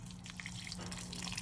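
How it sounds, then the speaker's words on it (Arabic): Water pours in a steady trickling stream onto semolina in a kitchen, a short continuous splashing dribble close up with no talk. "توا باش نزيد النص نتاعو ماء"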